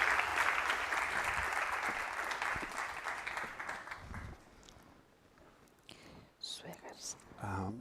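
Conference audience applause at a silicon and microelectronics forum in Valencia, steady and fairly full for about four seconds before thinning and fading out, followed by a speaker beginning to talk.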